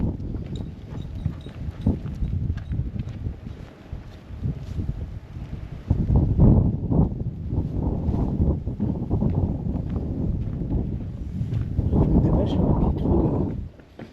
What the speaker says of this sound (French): Ouais, il y a beaucoup de vent pour le drone.